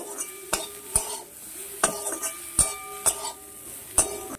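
A spatula works ground turmeric and Kashmiri chili powder in a frying pan. It gives a steady rhythm of close scrapes and clatters against the metal over a soft sizzle.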